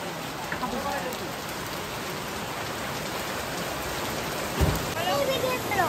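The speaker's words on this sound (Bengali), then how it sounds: "দেখো কি বৃষ্টি" Heavy rain pours steadily, with a dull thump near the end and faint voices briefly in the background.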